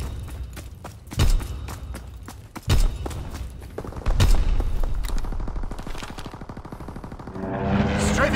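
Video game gunfire on a battlefield, with a few heavy booming shots followed by a long rapid burst of automatic fire from a fighter aircraft strafing run, loud and close.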